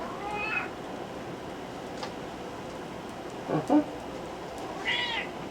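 A domestic cat meows in a kitchen while breakfast cooks, a short meow near the start, a louder pair of cries in the middle and a high, whiny meow near the end over a faint background hiss.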